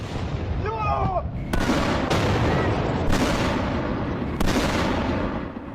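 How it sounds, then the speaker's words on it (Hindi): An Iranian missile strike on a highway in news footage: four heavy blasts land about a second apart, each a sharp crack rolling into a rumble, after a brief shouting voice at the start. "देखिए हाईवे पर आकर मिसाइल गिरी"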